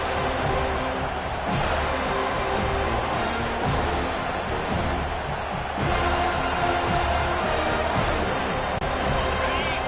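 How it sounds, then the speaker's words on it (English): Stadium crowd at an FSU vs LSU football game roars at full throat, a dense continuous wall of noise punctuated by occasional sharp thuds, loud throughout. "This crowd, full throat, splitting the eardrums and letting them know it's going to be a long day"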